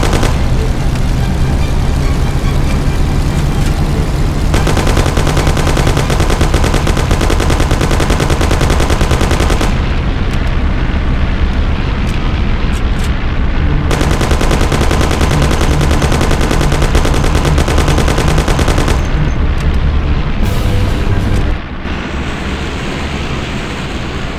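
Sustained machine-gun fire from a car chase shootout in the video game Mafia, loud and continuous in long rattling stretches broken by brief pauses over engine rumble, ending with a drop to a quieter drone.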